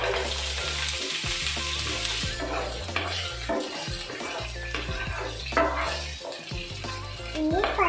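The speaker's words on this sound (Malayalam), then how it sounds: "ഇനി നമുക്ക് കർഷന ഇട്ടിട്ട് കൊടുക്കാം ഒന്ന് ഇളക്കി കൊടുക്കാം" Curry leaves sizzling in hot oil in a frying pan for semiya upma, loud continuous crackle with repeated spoon scrapes and clinks against the pan as they are stirred.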